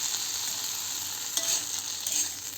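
Potatoes frying in a pan, a steady hissing sizzle heard close, with a couple of brief clinks as the pieces are turned.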